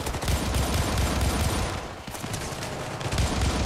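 Dense, continuous gunfire from the Syndicate video game, a corporate-war firefight with bursts from several weapons overlapping almost without a break, loud and close throughout.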